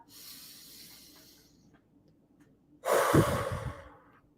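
A deep breath: a slow, soft inhale through the nose followed by a louder, breathy exhale, close and alone.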